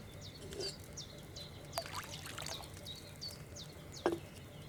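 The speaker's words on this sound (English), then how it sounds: "First, you have to pour the right base into the cauldron." Liquid poured from a pitcher into a cauldron in Kingdom Come Deliverance 2: a soft, steady trickle under faint outdoor birdsong, with no talking.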